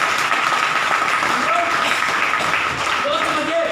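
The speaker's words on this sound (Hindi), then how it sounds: "मैं चाहता हूँ सर ऐसी संस्था के लिए एक बार जोरदार ताली होना चाहिए।" An audience at a business plan seminar claps loudly and steadily, a dense broadband patter of hands sustained from start to finish with faint voice traces mixed in.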